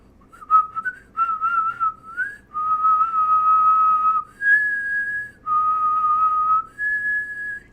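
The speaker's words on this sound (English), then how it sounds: "Yes, I can whistle." A person whistles a tune alone, holding long, clear, steady notes that step between a few pitches, with short breaks between phrases.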